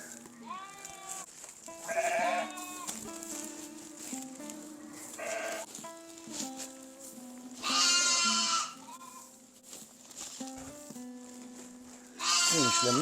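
Lambs on a mountain shepherd's farm bleat repeatedly in loud, wavering cries, some overlapping, with people talking between and under the calls.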